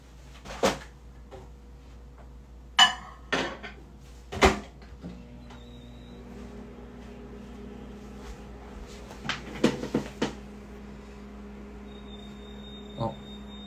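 A refrigerator is opened while someone rummages inside for bread: a few sharp clunks and knocks, then a cluster of rattles, over a low steady hum that grows stronger in the second half.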